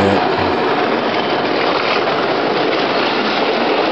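The Rohi Express train roars past close by, a loud, steady rumble of wheels and engine that holds at full volume throughout with no voices.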